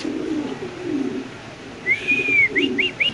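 Low, throaty cooing of a pair of black beauty pigeons with their chicks rumbles along, then a rising whistle-like sweep and a few quick chirping notes follow near the end.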